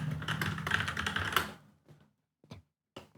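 A short burst of computer keyboard typing as a text prompt is entered, quick close keystrokes for about a second and a half, followed by a few isolated clicks in near silence.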